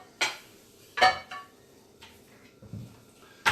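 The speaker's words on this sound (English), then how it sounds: "Let me get my pan out." A waffle pan pulled out and handled, giving a few sharp metallic clanks and knocks spaced apart with quiet gaps between them, close by.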